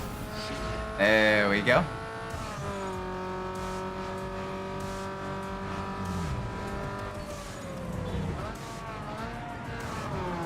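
A race car engine in Need for Speed Underground 2 holds a steady high drone, with a brief loud burst near the start as nitrous kicks in, plus tire noise and shifting revs. Someone speaks briefly.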